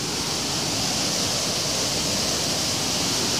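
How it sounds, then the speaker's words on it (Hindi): Water pours through the gate of the Indira Gandhi canal near Bikaner in a loud, constant roar of broadband rushing, close and unbroken with no talking. "इस गेट से देखिए आप कितनी स्पीड से पानी आ रहा है।"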